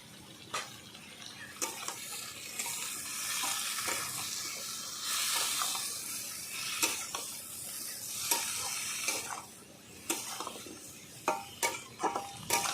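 Spices with salt and turmeric sautéed in a pan alongside drumstick stalks, a soft sizzle under repeated stirring scrapes and clinks of the spatula, fairly quiet, no speech.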